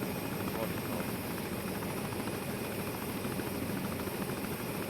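Steady, close helicopter rotor and engine drone during a military air assault, filling the whole stretch at an even level with no breaks.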